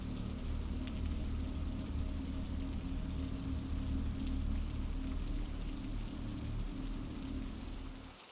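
Continuous rain at night, a dense, even hiss of drops pouring onto surfaces, steady and close, fading briefly at the very end.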